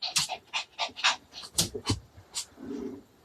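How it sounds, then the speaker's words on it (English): A dog pants in quick, soft, close breaths with faint snuffles while trying to climb onto a lap, quiet and uneven, with no talking. "The dog is determined to get on my lap"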